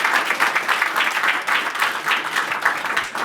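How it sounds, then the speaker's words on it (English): Warm applause from the audience at a business talk on outbound sales metrics, a dense steady clapping that stays loud and fairly even throughout without speech on top. "Can I get a warm round of applause for these guys?"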